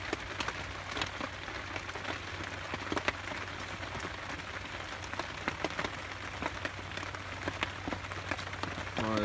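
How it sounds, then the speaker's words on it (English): Heavy rain pouring down on a forest bushcraft campsite, a constant close patter of drops striking surfaces with scattered louder taps, steady and fairly soft throughout with no voices. "It's pouring to rain"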